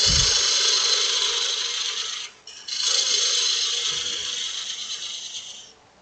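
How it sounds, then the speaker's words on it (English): A parting tool cleans up the edges of a long-stem wooden goblet turning on a wood lathe. It makes a steady, loud, close scraping hiss that breaks off briefly midway and fades out at the end. "So I'm just going to clean up the edges with the parting tool"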